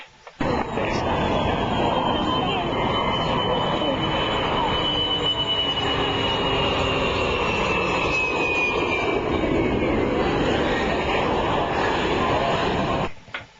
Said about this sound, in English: I got to watch airplanes fly by and boat racing going on the surf.